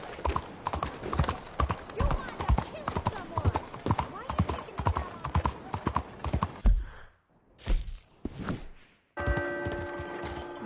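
A horse gallops in Red Dead Redemption 2, its hooves clopping in a steady fast rhythm under occasional talk. The hoofbeats break off near the end, with a brief whinny and some mechanical sounds.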